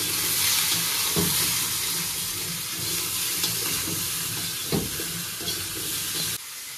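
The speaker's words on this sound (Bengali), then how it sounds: "হালকা ভাজা হয়ে গেছে সবজিগুলো।" Salted vegetables for shukto fry in a pan with a loud, continuous close sizzle. Occasional stirring knocks break the sizzle, and the sound drops off abruptly near the end.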